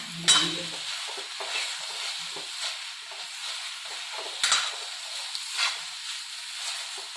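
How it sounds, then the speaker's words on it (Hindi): Amaranth greens with gram flour stir-fried over high heat in a pan, with a soft continuous sizzle broken by repeated scraping strokes of a spoon against the pan. "तेज आँच को, गैस की आँच को तेज रखेंगे, धीमा नहीं करेंगे। चलाते हुए भूनेंगे"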